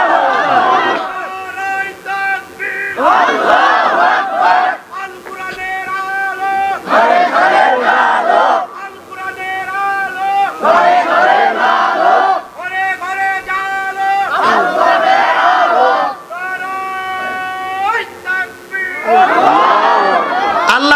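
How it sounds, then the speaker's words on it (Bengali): A crowd of men at a Bangladeshi religious gathering chants the takbir slogan, "Allahu Akbar", in loud repeated bursts of massed voices that rise and fall in a steady call-and-response rhythm. "একজন তাকবির দেন তো দেখি দেন ভালো করে একজন স্লোগান দেন দেখি"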